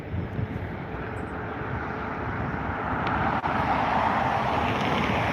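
A Turkish Cargo Airbus A330 taxiing toward the runway at Dublin Airport, a steady, broad jet engine roar heard from a distance that swells slightly louder partway through, with no talk.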